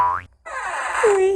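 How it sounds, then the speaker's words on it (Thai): A door opens in a haunted circus house video game: a short, loud, springy creak with a rising twang, a brief gap, then a wavering groan that slides down into a low sustained tone. "ชอบเสียงเปิดประตูมันเลย"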